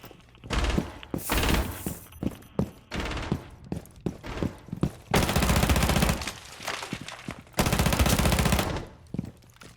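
Rapid bursts of automatic gunfire from Rainbow Six Siege, loud and close, in repeated sharp volleys with brief gaps and a few sustained sprays, no talk.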